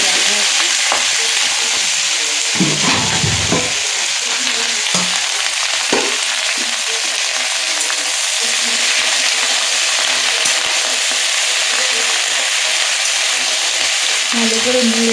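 Malabar spinach stir-fried in a hot pan, shrimp dish in progress: a loud, continuous close-up sizzle with scraping and clinking of a spatula during the first several seconds, then steady hissing frying throughout.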